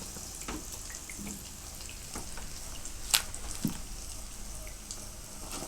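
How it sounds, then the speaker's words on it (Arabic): Meat samosas deep-frying in plenty of hot oil, a steady close sizzle and crackle running throughout, with a couple of brief clinks of a utensil against the pan. "ان شاء الله بدنا نقلي السمبوسك"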